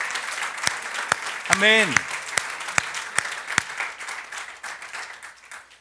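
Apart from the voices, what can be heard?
congregation applause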